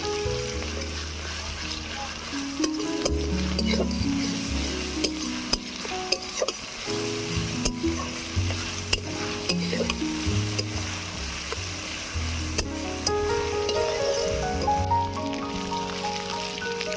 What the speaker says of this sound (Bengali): আদা রসুন পেঁয়াজটাকে লাল লাল করে ভেজে নেব